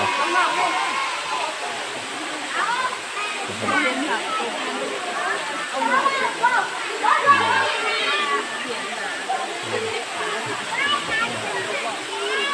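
Water at Saeng Chan waterfall in Khong Chiam, Ubon Ratchathani, rushes in a steady broad roar with occasional splashes, heard continuously throughout.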